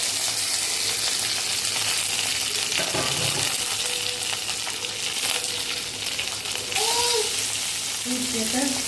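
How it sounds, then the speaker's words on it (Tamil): Ginger garlic paste sautés in a pan with cumin, dried red chilies, curry leaves and shallots for a breadfruit pepper fry, a loud, continuous close sizzle with stirring scrapes and a few light metallic taps. "இஞ்சி பூண்டு பேஸ்ட்டு நல்லா வதங்கிட்டோம்"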